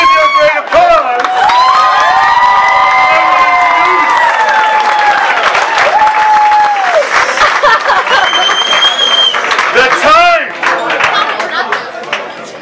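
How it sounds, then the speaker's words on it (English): A burlesque show crowd in a smoky downtown bar setting bursts into loud, sustained applause and whoops, with shrill cheers and excited shouts rising over the clapping throughout before it thins out near the end. "With your great applause."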